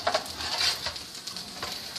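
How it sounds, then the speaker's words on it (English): Cabbage frying in a frying pan gives a soft, steady sizzle with light crackling pops, close and moderately quiet, with no voices. "I'm going to take these cabbages, okay, and I'm going to put them in the frying pan like this."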